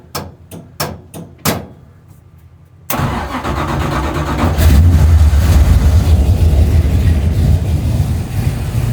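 A car engine cranks in several short bursts, then catches and fires up, settling into a loud, steady idle that swells as the throttle is pressed, with no talking over it.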